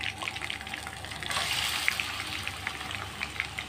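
Chicken pieces added to a hot pan, a loud hissing sizzle that swells partway through and continues steadily, close and without talking.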